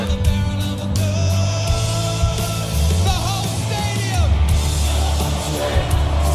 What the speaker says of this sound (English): hear the crowd here, ready?